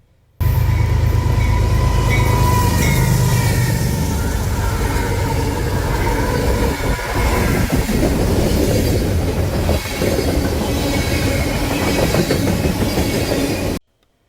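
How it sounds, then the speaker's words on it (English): CSX B710 freight train rolling past with a pair of trailing locomotives, a loud, steady roar of wheels and rail noise with some squealing, close by, and no voices. "our first train on this list would be CSX B710, with a pair of CPGEs trailing"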